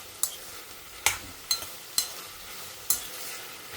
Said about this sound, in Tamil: இப்போ நம்ம வந்து வெங்காயமும் தக்காளியும் ஆட் பண்ணிடலாம்.